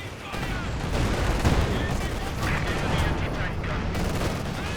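An artillery barrage in the real-time strategy game Company of Heroes 2 lands as a dense run of overlapping booms and crackling blasts, loud and continuous with rolling impacts across the whole stretch.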